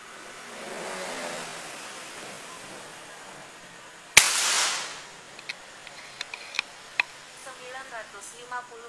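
A Buru Taktikal air rifle fires a 13-grain X-Slug during a velocity test. One sharp, loud crack cuts through a quiet background, followed by a few small clicks and light handling noises.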